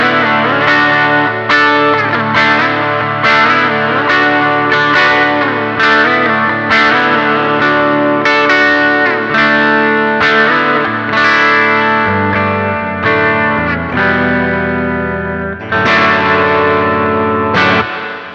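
A Puresalem La Bruja electric guitar played clean through effects, picking a chord-based bridge passage with ringing, chorused notes, loud and close for the whole stretch.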